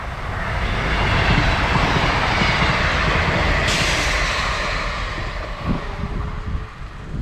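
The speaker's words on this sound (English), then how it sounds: "Train." Loud, steady rumble of a train rolling past close by a woodland roadside, a continuous roar with rattling that fills the whole clip.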